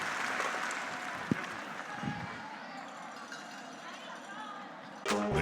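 A home curling crowd at the Mary Brown Center in St. John's reacts during a Grand Slam match, Gushue against Carruthers, with a steady murmur of cheering and clapping under commentary and a louder burst of applause near the end.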